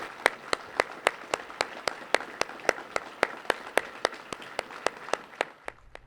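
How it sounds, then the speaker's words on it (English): Applause from a banquet audience at a police awards dinner: a steady, evenly paced run of sharp claps, fairly close and moderately loud, keeping an almost metronomic rhythm for several seconds. "A round of applause for the Cammerzell family,"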